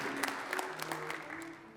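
Brief, quiet applause from a jazz trumpet festival audience in a concert hall, a soft patter of clapping with faint voices and a lingering tone beneath, tapering off within two seconds.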